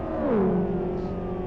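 Engine of a car in a driving game played on a steering wheel controller, revving steadily with its pitch dropping and then holding a level drone, loud and continuous with no talk.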